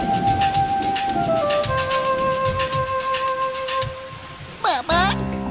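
Rain falls in an animated story as a steady, even hiss with soft patter, heard beneath sustained melodic tones, with a brief bright warbling sweep near the end.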